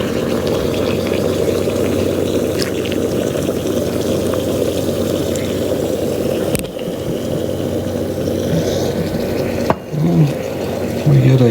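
A steady hissing, whirring hum of a running espresso machine fills the scene, with a brief clack near the end and faint voices at the close.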